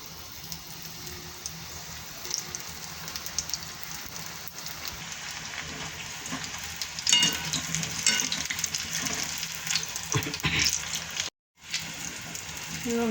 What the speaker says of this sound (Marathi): चला आता आपण राहिलेले भजे पण असेच तळून घेऊया